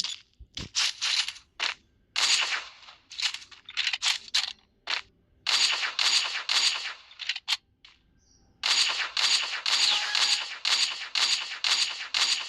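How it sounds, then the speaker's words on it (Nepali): Gunfire from a shooting video game rings out in quick, loud bursts, some clustered and some spaced apart with brief pauses, then a long unbroken run of rapid shots near the end. "मैले दुईटै गनको दुई गोली राखेको अनि हानेको मैले।"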